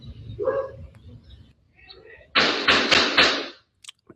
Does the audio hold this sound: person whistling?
no